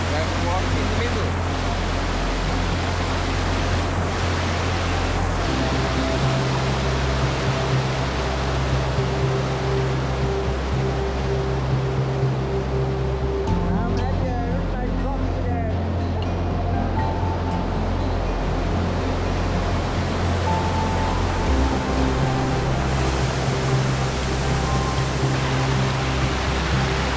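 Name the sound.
river with waterfalls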